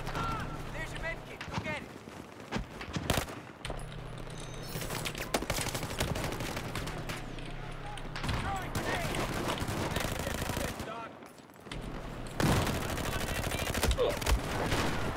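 Rapid bursts of light machine gun fire from an online shooter game keep going in dense, continuous volleys, with brief pauses and a steady mix of overlapping shots throughout.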